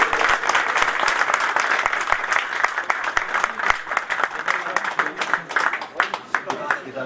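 Sustained applause and clapping from an audience at a live Pashto music performance, dense and steady for several seconds, with voices of the crowd mixed in.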